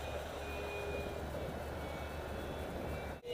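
RC foam SU-37 model jet with an electric ducted fan gliding in to land outdoors, a steady whooshing fan drone with a faint high whine, continuous and moderately near, cutting off abruptly near the end.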